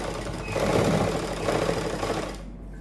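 A sewing machine runs a zigzag stitch to attach lace to a ladies' suit, whirring and clattering up close in a continuous burst before stopping.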